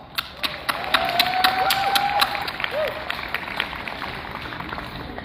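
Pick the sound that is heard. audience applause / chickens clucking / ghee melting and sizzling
audience applause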